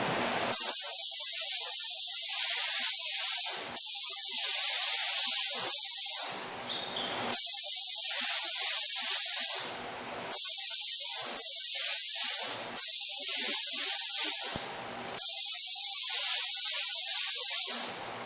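A spray gun lays black base coat on a Harley-Davidson front fairing, giving loud, close hissing bursts of a few seconds each, separated by short pauses as the passes repeat.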